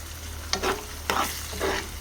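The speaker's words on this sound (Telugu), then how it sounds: "ఒకసారి అయితే కలుపుకుందాం ఇలా దొండకాయలు కాస్త ఫ్రై అయిన తర్వాత" Ivy gourd pieces frying in a pan are stirred in three distinct scraping passes, each lifting a soft sizzle above a steady low hiss of hot oil.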